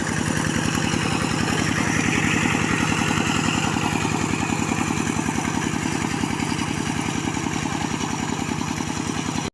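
A walking tractor's single-cylinder engine runs at a steady fast putter while tilling a muddy rice paddy, close and loud, unbroken throughout and with no voices.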